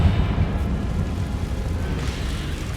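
A loud Confringo blasting curse from Hogwarts Legacy goes off close by, a deep rumbling boom that opens the moment and rolls on as a dense, roaring wash of debris and noise.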